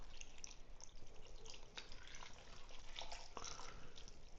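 Beef broth pouring into a crockpot, a steady close liquid splash and trickle running throughout with a few brighter drips near the end.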